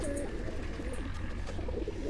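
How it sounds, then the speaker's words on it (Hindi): Home breeder pigeons cooing in a soft, continuous murmur of low, throaty calls, fairly faint and without any talking. "ये कबूतर जो हैं ये इनके घर के ब्रीडर कबूतर हैं"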